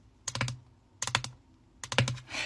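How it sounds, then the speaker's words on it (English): Long fingernails clack on a computer keyboard in three quick bursts of several sharp, close keystrokes, separated by brief pauses, with no voices. "Listen to me type on my keyboard."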